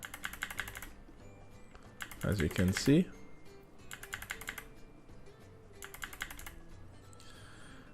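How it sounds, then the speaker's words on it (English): Arrow keys tapped on a computer keyboard while nudging a Revit drawing element, coming in several quick bursts of clicks spread across the clip, with someone talking in between. "So I'm just nudging that with my arrow keys"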